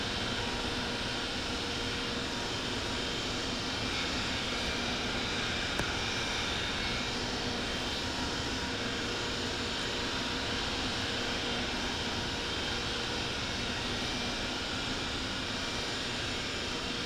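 Jet engines of an Emirates Boeing 777-300ER idle and rumble steadily while the airliner taxis toward a gate in the Infinite Flight simulator game, a continuous broad whine and roar with no breaks.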